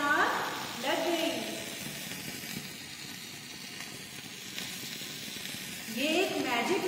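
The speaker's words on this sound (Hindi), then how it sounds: "ये देखिए पानी में आग लग गई।" Sodium dropped into water in a chemistry lab sizzles and hisses in bursts as it catches fire. A person talks over and between the crackling.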